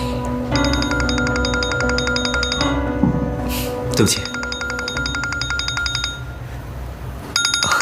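A mobile phone ringtone plays loudly in repeating melodic bursts through a birthday toast scene in a Chinese drama, with brief gaps and a short apology spoken over it.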